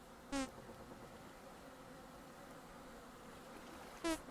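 Bees buzz in the survival game Vintage Story, two short synthetic buzzes at the start and end, moderately loud over a quiet, steady background hum.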